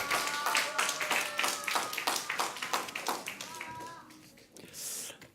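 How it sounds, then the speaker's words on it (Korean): A church congregation claps together in a quick, steady patter during a Sunday service while a voice talks over it. The applause tapers off toward the end. "박수 치시면서 환영하겠습니다"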